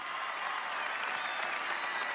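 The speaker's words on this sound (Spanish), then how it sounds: "pedir un aplauso bien fuerte a la Fuerza Armada Nacional Bolivariana" Crowd applause for Venezuela's Bolivarian National Armed Forces during an election-night event, a steady distant wash of many people clapping with no break, fairly soft in level.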